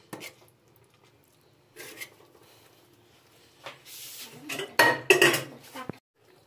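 A ladle scrapes and knocks against a cooking pot as vegetable khichuri with winter vegetables is stirred carefully, intermittent metallic clinks and rasps that grow louder and busier toward the end.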